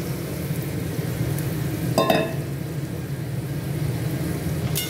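Marinated chicken pieces dropped into a hot kadai with onions and bay leaf, a steady low sizzle of frying with one brief clatter of added meat partway through.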